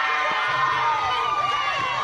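A crowd cheers at a women's league baseball game in Minnesota, a sustained, dense roar of many voices heard close and fairly loud.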